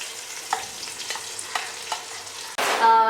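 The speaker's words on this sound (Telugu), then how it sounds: "ఇందాక చూపించాను కదా ఉల్లిపాయ పేస్ట్ అది మొత్తం ఇందులో వేసేసుకుందాం ఆయిల్లోని" Onion paste frying in hot oil for a Vizag-style fish curry, a steady sizzle broken by a few stirring scrapes, then a sudden louder, harsher burst of sizzling near the end as the paste hits the oil; no voices.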